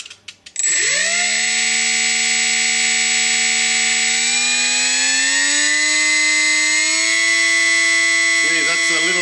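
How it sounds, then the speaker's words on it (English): The 2500 kV electric motor of a Parkzone Ultra Micro Icon A5 spins up after a few clicks and holds a loud, steady, high-pitched whine at half throttle, its pitch drifting slightly upward. "The 2500 kV motor, that's on half."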